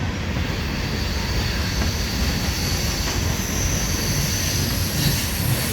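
A grain train and an empty coal train pass together, producing a dense, loud, continuous rumble and rolling roar that holds steady close by throughout.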